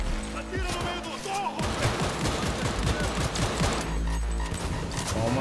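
Gunfire bursts in the game Cyberpunk 2077, with dense, continuous shots filling the scene over background game music, while someone talks and exclaims throughout.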